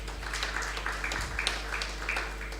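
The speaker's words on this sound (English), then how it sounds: "Let them clap for you." Audience members at the 5th IBAU Conference in 2023 clap in a room, giving a moderate, continuous patter of applause with a low hum running beneath it.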